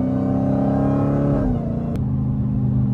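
A loud Dodge Hellcat engine revs and roars up close, dropping briefly before rumbling on with a deep, throaty growl.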